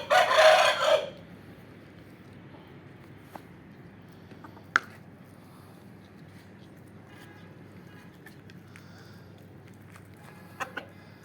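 A rooster crows once loudly and close at the start inside a cage, then only faint scattered clucks and scuffs from chickens remain over quiet background.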